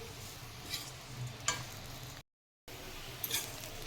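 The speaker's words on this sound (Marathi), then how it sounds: "ते मी पाच मिनटं चांगलं परतून घेणार आहे बारीक गॅसवर" Onion and coconut masala paste frying on a low flame, a faint, even sizzle with a few soft clinks of a spoon and a brief gap of silence.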